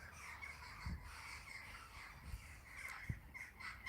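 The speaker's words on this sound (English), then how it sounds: "Birds." Crows caw repeatedly outside a tent in the morning, sounding faint and somewhat distant over a soft outdoor background, with scattered calls and a few louder caws.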